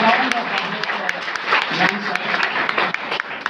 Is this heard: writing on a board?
no